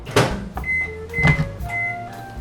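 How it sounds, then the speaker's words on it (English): A microwave oven melting ingredients for brownies, giving off a steady electrical hum with tonal whines and a few soft clunks, close and clear, with no voices. "I'm just going to heat that up in the microwave for about 30 seconds or so until it's completely melted"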